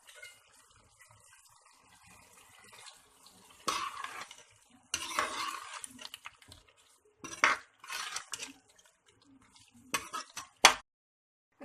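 Chicken with black pepper and other spices is stirred in a pan, with bursts of scraping and clattering spoon strokes against the metal over a light sizzle, ending in a few sharp knocks.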